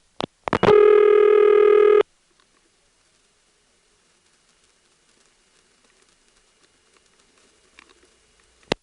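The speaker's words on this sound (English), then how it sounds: "That, of course, was the ringback circuit, aka the reverting circuit, which NX1s and NX2s give you when you dial your own number" Ringback (reverting) tone from a GTE NX2 crossbar telephone exchange heard on a line, starting with a few short clicks and then one steady buzzing tone of about one and a half seconds, followed by near silence with faint clicks.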